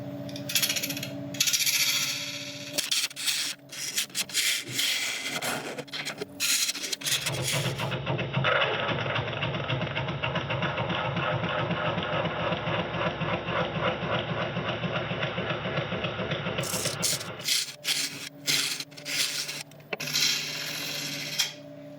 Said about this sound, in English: we're all sharpened up and we're going to start turning at about 940 RPM